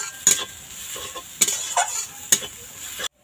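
Grated coconut being stirred in a hot wok, with a spoon scraping and clinking against the pan in several distinct strokes over a faint sizzle, stopping abruptly at the end.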